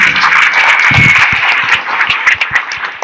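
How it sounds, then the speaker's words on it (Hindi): An audience at a Sant Kabir devotional gathering applauds the event volunteers: steady, dense clapping from a large crowd, loud and continuous for the whole stretch with no talking over it. "एक बार सभी कार्यकर्ताओं के लिए जोरदार ताली बजा करके अभिनंदन"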